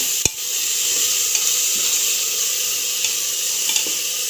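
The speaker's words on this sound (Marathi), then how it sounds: "छान तेलात परतून घ्यायचं" Ingredients sautéing in oil for mutton biryani produce a loud, continuous hiss and sizzle close by, with one sharp clink near the start and faint stirring taps.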